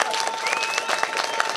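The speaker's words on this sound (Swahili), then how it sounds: "Piga makofi kwa JPM." A crowd gathered outdoors in Moshi to welcome a freight train claps in a loud, continuous burst of overlapping hand claps, with a faint thin whistle-like tone running through it.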